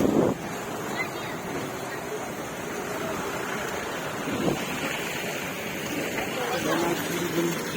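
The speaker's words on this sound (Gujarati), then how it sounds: "જોઈ શકો સામે કેટલું પાણી આવી રહ્યું છે." Banas river water rushing under a bridge, a steady wind-buffeted roar of flowing water heard outdoors while a person talks over it.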